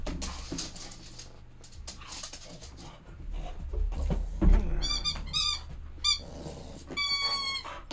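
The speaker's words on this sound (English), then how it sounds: "this is the squeaky toy right here" A dog's squeaky toy squeaks in several sharp bursts, with a dog panting and scuffling close by outdoors.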